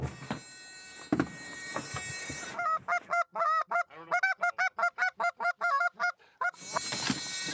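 A flock of real geese honking nearby outdoors during a goose hunt in Rochester, with a rapid run of loud, repeated honks, some overlapping, between noisier stretches of wind and rustling.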